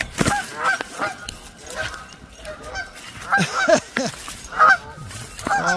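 Several geese honk loudly nearby in bursts at a pond, with splashing and brief movement noise between calls and a single short spoken word.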